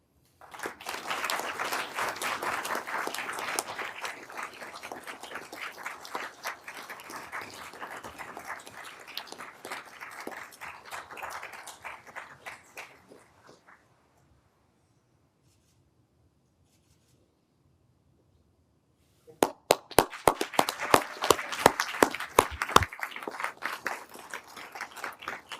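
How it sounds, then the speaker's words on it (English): A crowd at a Ph.D. hooding ceremony breaks into sustained applause and cheers, fading out, then after a silent gap a second burst of clapping begins. "Cheers from the crowd."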